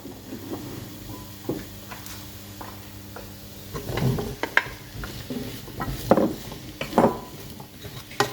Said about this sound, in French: Même des courgettes simplement revenues comme ça avec de l'huile d'olive et un peu d'oignon ou des échalotes